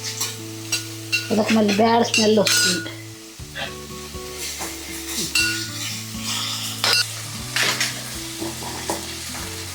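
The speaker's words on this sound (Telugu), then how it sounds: "అల్లం వెల్లుల్లి పేస్టు పచ్చి వాసన పోయేంత వరకు వేయించుకోవాలన్నమాట" Ginger garlic paste sizzles in hot oil in a pan for a dry fish and egg curry, stirred with scraping and clinking utensil strokes, with a voice talking briefly over the frying near the start.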